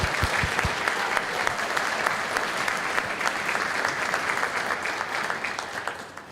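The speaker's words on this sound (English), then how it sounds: "So if he's here, he deserves a round of applause." A school spring orchestra concert audience claps for a teacher, dense steady applause with a few louder individual claps near the start, then slowly tapering.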